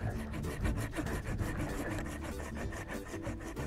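A hand saw rasps back and forth through a cherry tree branch during pruning, a steady, close rhythm of rough strokes with no talk.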